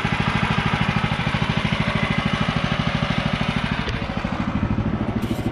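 A Woodland Mills HM126 sawmill cuts through pignut hickory, its engine putting out a steady, rapid low pulsing chug with a faint clatter, fairly even throughout and without voices.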